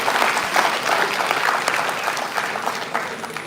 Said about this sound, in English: let's give a big round of applause for all this